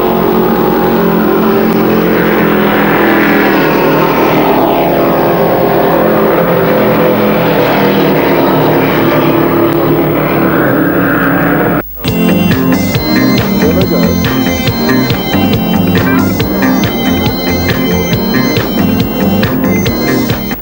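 A fleet of racing powerboats roars off the start on a flat calm bay at the 1982 Brixham Powerboat Race, a loud continuous engine drone that cuts out briefly and then returns as a dense, harsh blare of many motors.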